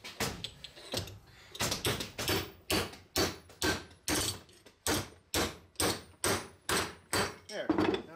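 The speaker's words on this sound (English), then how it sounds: "And now we can hammer it." A metal piece is hammered flat for removable utility trailer sides, with about fifteen loud, evenly spaced ringing blows in a steady rhythm and brief pauses between strikes.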